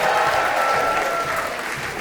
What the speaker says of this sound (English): Clap it up for Peter.